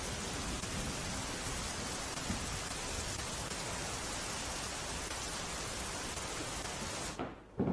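Heavy rain falls in Gujarat as a dense, steady hiss that stays loud and unbroken before cutting off abruptly at the end.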